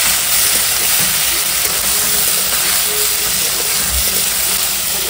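Prawns cook and are stirred in a pan for a cabbage dish, giving a steady, loud broadband sizzle and hiss with faint scraping, continuous throughout without speech.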